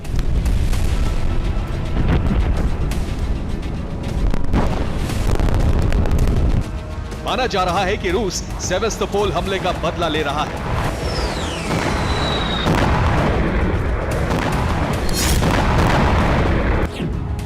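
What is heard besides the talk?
explosions from Shahed drone attacks on Kyiv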